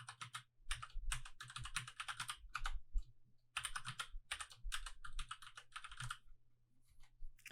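A password being typed on a computer keyboard, with quick bursts of close, crisp key clicks separated by short pauses and a faint steady hum underneath.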